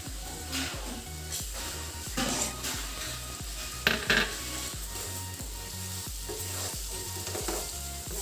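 Ripe banana being stirred and fried in a pan, with a steady close sizzle and repeated rhythmic scrapes and clinks of a utensil against the pan throughout.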